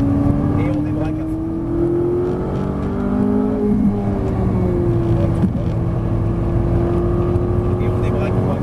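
A Ferrari 458 Italia engine on the Dreux track pulls hard under acceleration, a loud, steady, close drone whose pitch climbs gradually, with a voice talking over it.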